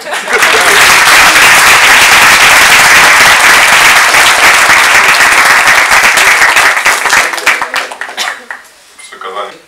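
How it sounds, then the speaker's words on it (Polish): Loud, dense applause fills the room at a press conference for the Ursynalia 2012 festival, sustained for several seconds before thinning out and fading into scattered claps. "Także proszę o oklaski."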